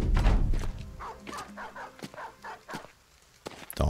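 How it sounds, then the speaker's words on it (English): Dogs barking in the video game Battle Brothers, a series of sharp separate barks and yelps spread over a few seconds, fairly close and loud. "Dogs."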